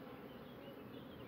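Honeybees hum and buzz in a soft, steady drone around a brood frame lifted from a hive colony in spring. They are faint and fairly close, with no voices.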